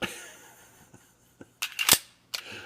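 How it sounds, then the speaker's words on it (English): A magazine drops free from a Dan Wesson Specialist Commander .45 pistol, heard as a few sharp metallic clicks and a louder clattering snap close to the mic in a quiet room. "the mags just fly out of this"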